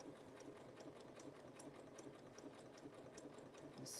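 Sewing machine stitching a hair drying towel, a steady rapid mechanical whir with regular needle clicks, close and continuous throughout.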